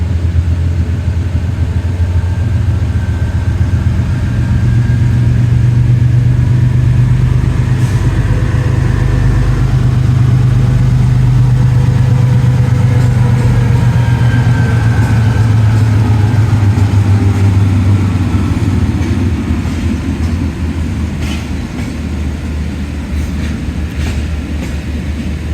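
The Awam Express 103 pulling into a station with locomotive 4562 leading, a loud, continuous low rumble of engine and rolling wagons that fades slightly toward the end.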